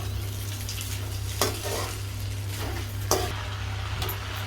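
Semiya vermicelli is stirred in a pan for upma, making a steady frying hiss close by. Sharper scrapes of the spoon land every second or two under a faint low hum.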